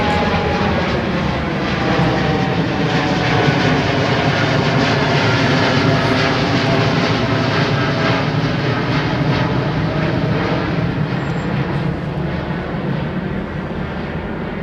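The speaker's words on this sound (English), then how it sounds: "That was an aircraft departing the runway" Aeromexico airliner departing a runway at London Heathrow, a loud, steady jet engine roar sustained throughout without pause, no voices.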